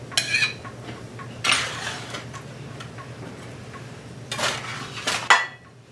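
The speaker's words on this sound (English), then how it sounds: "I'll use a spatula to give everybody some veggies" A spatula scrapes and clinks against a pot and bowls while serving pot-roast vegetables, a few distinct metallic taps and scrapes over a quiet, steady background hum.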